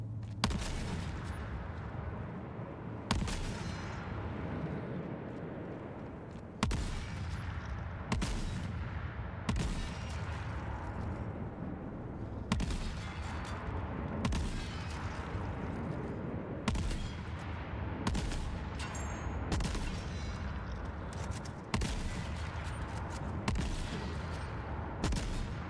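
Repeated gunfire in the video game Gunhead, sharp loud shots at irregular intervals over a constant dense background of game noise.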